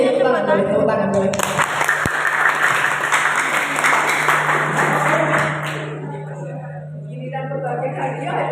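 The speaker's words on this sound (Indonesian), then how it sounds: "Ya, tepuk tangan boleh, tepuk tangan boleh." An audience claps at an Independence Day talk show event, a burst of many hands that fades after a few seconds, with a sharp thump and a steady hum while a voice talks through it.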